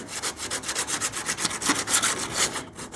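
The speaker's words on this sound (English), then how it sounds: "I just used a big flat block, and I'm just flattening this off good." A big flat sanding block rasps back and forth over a 1929 Chrysler's rear trunk lip body panel in quick, steady rhythmic strokes, close and alone.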